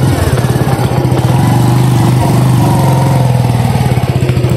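A motorcycle engine idles close by in a steady, loud, even chugging putter that runs unchanged throughout.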